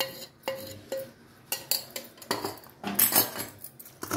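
Chickpea flour and wheat flour dough for gavvalu being mixed by hand in a metal bowl, with irregular clinks and scraping taps of utensil against the vessel, fairly close and without talk.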